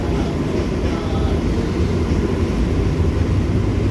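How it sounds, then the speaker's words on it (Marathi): Fast local train passing Jogeshwari station on the Mumbai suburban line without stopping, heard from aboard an AC slow local: a loud, continuous low rumble and roar of rolling wheels with no breaks. "समोर एक फास्ट लोकल ट्रेन अराईव्ह पण करते"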